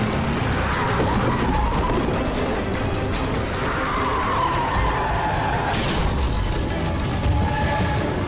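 A car reverses and skids in a tense crime-drama chase, with loud tyre screech and engine roar over dense action noise and sharp bangs.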